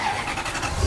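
Classic van engine firing up just off the jacks before parade laps at the Chang Classic Car Revival, a short close burst of cranking and catching with a rough mechanical roar.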